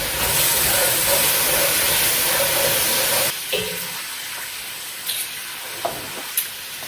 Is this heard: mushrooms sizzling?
yes